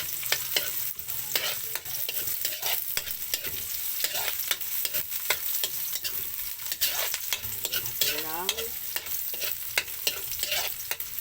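Garlic and onion stir-fried together in a pan, with constant close sizzling broken by rapid, rhythmic scrapes and clacks of a spatula against the metal throughout.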